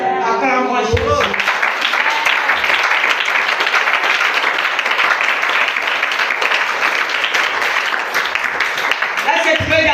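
A church congregation at a seminar gives loud, sustained applause that fills the hall for several seconds, with voices heard faintly at the edges.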